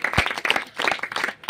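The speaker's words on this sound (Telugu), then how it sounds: "చప్పట్లు కొడుతూ దేవుణ్ణి మహింపరుద్దాం." Hands clapping in praise during a church worship gathering, a quick burst of applause from the congregation, moderately loud and uneven, with a few sharp claps standing out.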